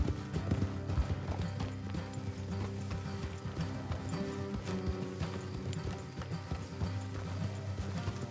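Hooves clip-clop steadily on a hard surface, several horses walking at an unhurried pace, with faint creaks of tack mixed in.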